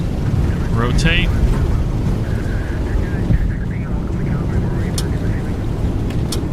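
Boeing 737NG airliner taking off in the X-Plane 12 flight simulator, a steady, loud broadband engine roar that holds throughout, with a voice talking over it briefly near the start.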